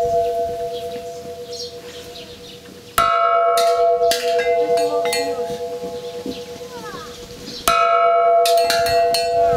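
Several church-style bells rung by hand at an outdoor prayer camp. Loud, close strikes leave ringing metallic tones that hang and overlap, with fresh clusters of blows about a second apart and again several seconds later.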